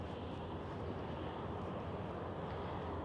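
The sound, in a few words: Austrian Airlines aircraft taxiing at Vienna airport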